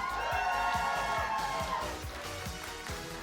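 Esports event crowd in an arena, a broad wash of cheering and shouting with some rhythmic clapping or stomping, sustained and loud then easing slightly.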